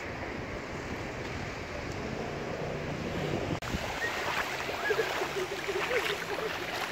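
Waves at Plage des Catalans beach in Marseille, a steady wash of surf with wind noise on the microphone, moderately quiet and continuous, with no voices.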